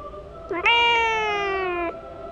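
A single drawn-out cat meow, loud and close, rising then holding steady for over a second before cutting off.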